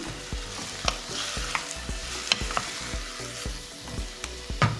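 Four green chillies fry in hot oil with a busy, close crackle and sizzle, punctuated by frequent spatula taps and scrapes against the pan in a loose, uneven rhythm; no speech.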